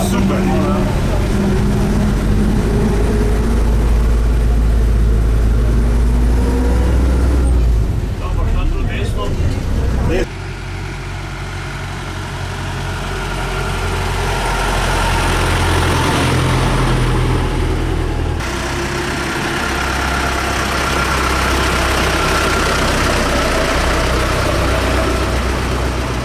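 A rare TAM 130 A8 bus engine runs with a loud, steady low drone that shifts in pitch as gears are changed from third back to second, with clunks during the shifts.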